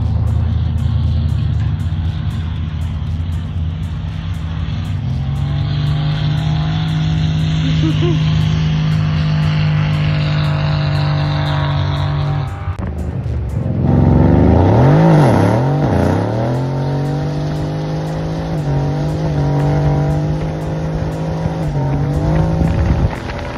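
An Audi RS3 driven hard, its engine revving loud and close through rising and falling pitch sweeps, with a sharp gear-change break midway and repeated aggressive acceleration, a voice faintly present beneath.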